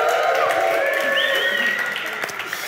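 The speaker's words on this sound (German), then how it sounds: "Kleinen Applaus für André." Audience applause and cheering at a re:publica 2015 conference session, loud at first and tapering slightly, with whoops and voices mixed into the clapping.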